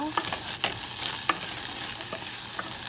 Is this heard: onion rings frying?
yes